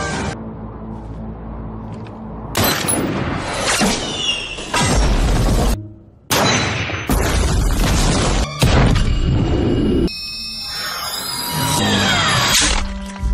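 Bomb attack explosions in a war film set on the Arabian Peninsula, several heavy booming blasts and crashing debris in separate loud bursts, some with ringing, shattering tails.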